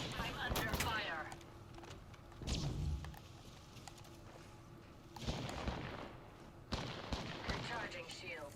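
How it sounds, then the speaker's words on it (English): Bursts of automatic weapon fire from the Halo video game crackle in several separate volleys, loud and close, with quieter gaps between them and a voice speaking over part of it. "I'm under fire."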